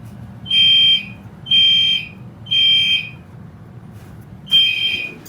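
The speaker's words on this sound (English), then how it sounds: "The alarms are still going off" A smoke detector alarm shrieks in four loud, piercing bursts during a fire alarm system test, evenly spaced at first with a longer gap before the last.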